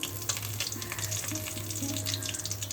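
Asafoetida tempering sizzling in a spoonful of hot ghee, a dense, steady crackling fry heard close up for a few seconds with no talk.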